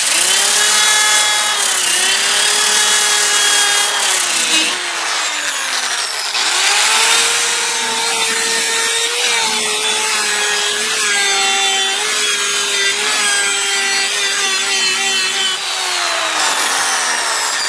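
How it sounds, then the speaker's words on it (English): A power sander works a copper beech wooden tray, producing a loud, continuous whirring drone with a rising and falling tone as pressure changes, close and uninterrupted. "I'm going to have to do it all again with the other sander"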